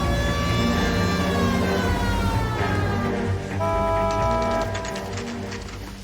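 A police siren wails steadily in a close, loud setting, its rising and falling tone sweeping over heavy rumbling background noise before easing slightly toward the end.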